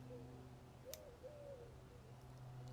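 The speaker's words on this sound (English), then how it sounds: "Yeah, doves in the background. There are quite a few of them around here." Doves near an orange grove coo softly in the distance, a couple of faint, low hooting notes rising over a steady background hum.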